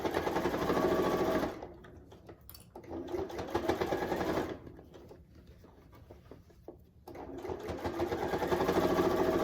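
A sewing machine stitches over the hanging loop of a quilt-as-you-go Christmas stocking, with a loud rapid mechanical chatter that slows and drops to a softer, uneven run midway, then resumes at full speed, with no voices.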